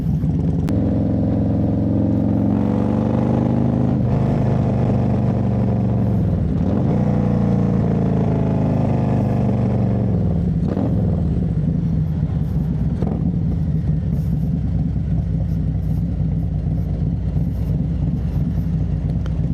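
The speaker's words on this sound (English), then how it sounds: "This bike is just super aggressive, man. From light to light, you making noise" A motorcycle engine with a 107 Stage II setup runs loud and close, revving up and down in rising and falling sweeps before settling into a steady throaty idle.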